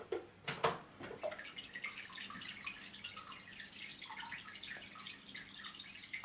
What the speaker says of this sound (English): quite a nice jet of water coming out of there